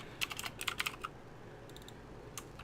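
Keyboard typing for a Roblox scripting session: a quick cluster of close, crisp keystrokes, a pause, a few more taps, then a couple of isolated clicks near the end, with faint background hiss and no talk.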